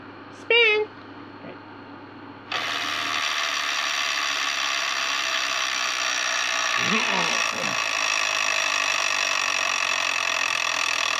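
An electronic Wheel of Fortune tabletop game wheel is spun, setting off a loud, fast, continuous mechanical ratcheting clatter that runs steadily to the end, after a brief electronic tone and with a short voice-like sound partway through.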